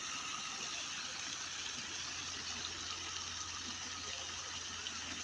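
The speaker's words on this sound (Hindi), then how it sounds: "ये वो वाटर फिल्ट्रेशन है जो यहाँ पूरी सोसाइटी को जो पानी फ्री में दिया जाएगा।" Water rushes steadily through a water filtration unit serving a housing society, a constant broad hiss and gush with a low pump-like hum underneath, unbroken and fairly close.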